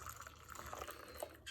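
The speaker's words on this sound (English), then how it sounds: "you're going to pour your bone broth. Pour it carefully because it's warm." Warm bone broth is poured into a dog lick bowl, a brief, faint liquid trickle with light splashes, heard alone.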